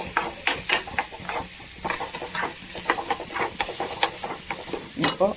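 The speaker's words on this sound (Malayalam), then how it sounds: "ഞാൻ ഇപ്പോൾ ഒരു മുട്ടേനെ ചേർക്കണുള്ളൂ അതൊന്ന് ചിക്കി എടുക്കട്ടെ" A scrambled egg is stirred in a frying pan for a prawn-and-greens dish, a soft steady sizzle broken by repeated scraping, clicking strokes of a spatula against the pan.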